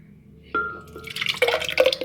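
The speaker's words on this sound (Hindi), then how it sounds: "उसके अंदर पहले हम दही डालेंगे।" Yogurt poured into a grinder jar in a home kitchen, a soft plop followed by a few wet drips and gloopy splats, close and fairly quiet.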